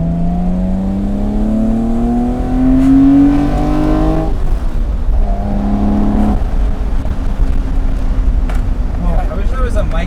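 BMW M5 engine with individual throttle bodies producing steady induction and engine roar, with rising revs that then settle, heard loud and continuous from inside the car as people talk over it.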